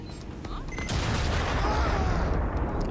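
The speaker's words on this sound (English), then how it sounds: "Did she just shoot a missile?" A missile fired in Watch Dogs Legion launches with a rising whoosh that swells into a loud, sustained roaring rush, cut off by a sharp crack at the very end.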